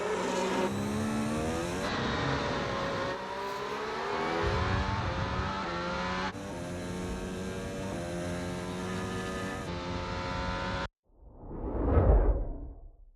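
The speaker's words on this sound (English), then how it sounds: "we tried to hit it hard with this sparking thing that you'll see on the undercarriage of the car" A car sound effect for the film F1 roars past with a rising then fading rush, scraping undercarriage sparks hissing beneath it, ending in a short swelling whoosh after a brief silence.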